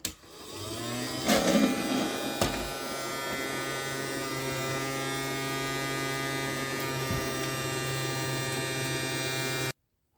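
A small motor in a toy Dyson Ball vacuum cleaner switches on with a click and settles into a steady, buzzing whine with a low hum, running evenly before cutting off abruptly.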